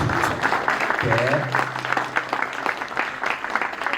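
Audience applause at the opening of a painting exhibition: a dense, steady crackle of many hands clapping throughout, with a low hum underneath and faint voices mixed in.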